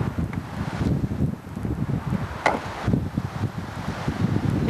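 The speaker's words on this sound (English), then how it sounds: "Hear the wind in the tree?" Wind gusts through a tree on a balmy day near an open battlefield, making a steady rushing roar with low buffeting against the microphone and leafy rustle, and no voices.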